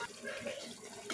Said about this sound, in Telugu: కొంచెం డీప్ ఫ్రై అయింది కదా, కొంచెం వాటర్ యాడ్ చేస్తున్నాను